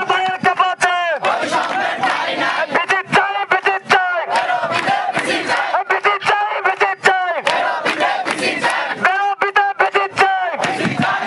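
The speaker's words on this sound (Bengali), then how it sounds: "এখানে শিক্ষার্থীরা স্লোগান দিচ্ছে" Protesting students chant slogans in rhythmic unison, a loud crowd of voices rising and falling in repeated bursts, with a lead voice calling and the group answering throughout.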